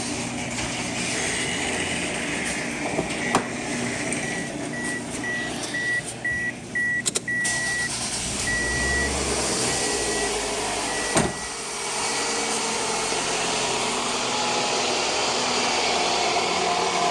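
A 2003 Toyota RAV4 engine runs steadily at close range after a serpentine belt replacement, a continuous even hum with no squeal, broken only by a few brief clicks and a short electronic beep pattern partway through.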